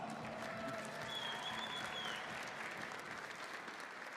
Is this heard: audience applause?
yes